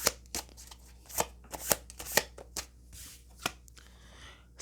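Tarot cards are shuffled by hand in a quiet room, a series of soft, sharp riffling snaps and slaps in an uneven rhythm, faint and close with no talk.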